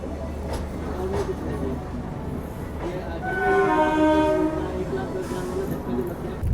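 Swarn Shatabdi Express train pulling out of Kanpur station, a steady rumble of wheels and coaches rising midway as a horn-like tone sounds, with faint voices in the background.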